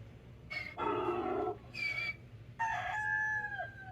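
A rooster crows in a few separate bursts, the last one a long drawn-out call, fairly clear against a low, steady background hum.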